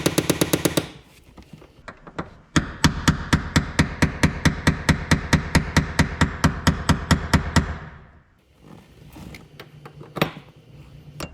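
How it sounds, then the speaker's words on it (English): Rapid steady hammer blows strike a chisel cut into a Loctite-set stuck bolt on a Volkswagen MK3 shifter box, a close, loud, sharp metallic series of about twenty evenly spaced hits, pausing, then a few scattered taps. "as you chisel down into it and get a nice groove, then you can put an angle on it and hit it"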